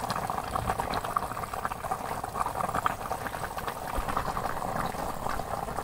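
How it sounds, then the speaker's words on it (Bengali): A village-style magur catfish curry simmers in a pot, making continuous, close bubbling and gurgling at an even level with no voices. "তো অনেক সময় জাল দিলাম তরকারি"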